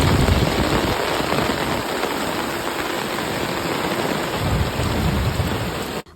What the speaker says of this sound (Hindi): बहुत ज़ोरों से बारिश शुरू हो गई। बिजली भी कड़क रही थी और बादल भी गरज रहे थे